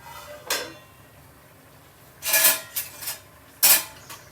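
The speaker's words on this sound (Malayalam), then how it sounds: "ഞാൻ മൂടിക്കാളം പോളെ ഒരു സ്റ്റീലിൻ്റെ പ്ലേറ്റോട് മൂടി വിട്ട്" A steel plate set over a pot as a lid in a home kitchen, giving a few short metallic clinks and scrapes in separate bursts, fairly close, with quiet gaps between.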